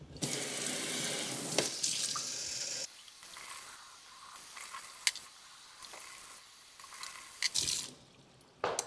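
Sprouting wheat berries are rinsed under a running kitchen tap, with water gushing loudly into a sink, then softer splashing and swishing with sharp clicks and knocks, before the tap flow returns near the end.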